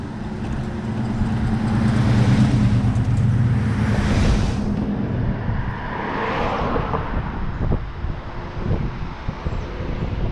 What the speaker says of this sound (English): Now, what did that car pull off there for?